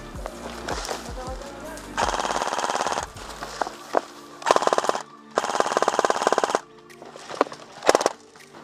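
An Elite Force VFC H&K MG4 airsoft light machine gun fires several long, rapid automatic bursts separated by short pauses during outdoor team gameplay, close and loud, with a few shouted calls between bursts.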